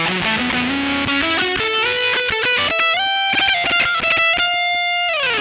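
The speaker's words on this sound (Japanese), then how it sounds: "こんな感じでマフが入って、で、アンプがあって、キャビがあって、ZNR があって、アナログディレイが最後に入ってますね。" An electric guitar plays through a Muff-style fuzz patch on a ZOOM G1 X FOUR multi-effects unit with amp, cabinet, noise reduction and analog delay, giving thick fuzzy notes that climb in a quick run before a held note fades.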